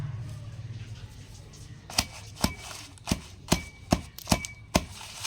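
Sharp, evenly spaced pounding thuds as ajwain seeds are crushed, about eight strikes in quick succession, close and loud, after a quiet stretch of low background hum.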